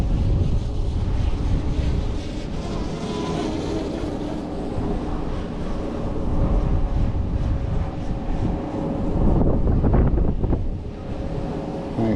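Strong gusting wind buffets the microphone hard during a drone flight over a factory yard, a loud, rough roar that surges and swells, with a heavier blast near the end.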